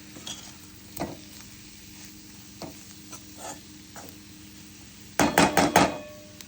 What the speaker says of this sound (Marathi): सर्व मसाला ह्याच्यात टाकला, आता आपण छान भाजून घेऊ।